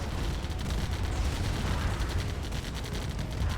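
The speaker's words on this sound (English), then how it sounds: "So many artillery." Artillery fire in a real-time strategy game match on the Quarry map, a dense continuous barrage of booms and rumbling blasts that stays loud and steady throughout.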